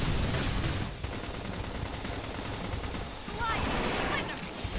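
Sustained covering gunfire in the Switch game Xenoblade Chronicles X: Definitive Edition, dense rapid bursts running through the whole stretch, loud and close with combat effects layered in and some voices over it.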